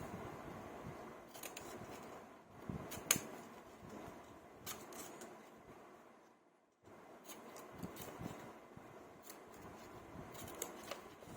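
Scissors cut through paper for a homemade Apple Watch 6 craft, making faint, close, irregular snips and rustles with a short pause midway and no talk.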